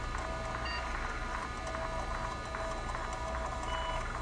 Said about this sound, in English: you can hear the machines whirring away